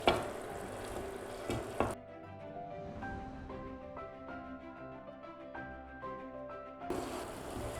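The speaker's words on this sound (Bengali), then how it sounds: "আমি ওই মশলাগুলোর মধ্যে আমি একে একে সবজিগুলো দিয়ে দিব।" Cauliflower and broccoli are stirred into frying spices in a pan for a boal fish curry, with a loud sizzle for two seconds, a stretch of music, then the sizzle returning at the end.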